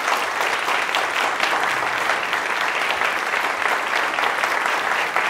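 Steady, dense audience applause welcoming a guest singer onto a concert stage, sustained evenly at full strength for several seconds with no voices over it.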